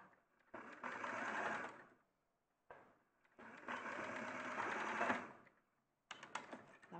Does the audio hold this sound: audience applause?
no